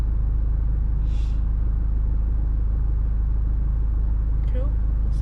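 A car's engine and road rumble sit as a steady, loud, low drone while driving off, with a brief faint voice heard over it.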